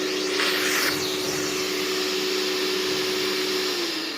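A Festool Clean Tec CTL dust extractor runs on low suction, a loud, steady whine and rushing hum close by that dips slightly in pitch near the end.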